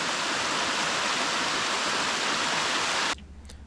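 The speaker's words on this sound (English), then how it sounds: "it's just like an eternal mountain-long waterfall." Tall, mountain-long waterfall in New Zealand, a dense, steady rushing roar of falling water heard close and loud for about three seconds before cutting off abruptly to near silence.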